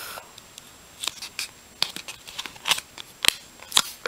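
Paper folded for an origami fish: a run of crisp crinkles and sharp creasing snaps, close and irregular, growing busier toward the end, with no talking.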